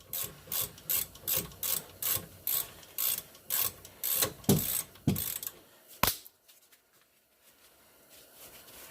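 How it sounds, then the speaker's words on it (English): A hand ratchet working loose a stuck brake caliper bolt on a 2007 Pontiac G6, heard as a run of about a dozen rhythmic clicking strokes, loud and close, ending in a sharp clack before the sound trails off into quiet handling. "this bottom one was a little more stuck, so we just used our ratchet to break it free"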